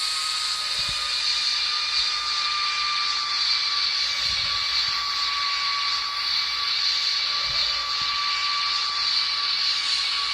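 A Learjet's jet engines whine with a steady high-pitched tone during a go-around in Roblox, loud and constant, with a few dull low thumps underneath.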